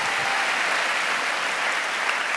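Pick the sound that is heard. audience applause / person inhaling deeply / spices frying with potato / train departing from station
audience applause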